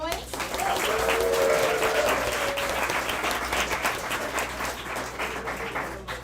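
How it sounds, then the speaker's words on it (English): Sustained applause from a poetry slam audience, a dense, loud wash of clapping that fills the room for several seconds after a poet's scores are read, with voices mixed in. "We'll applaud the poet, not the points."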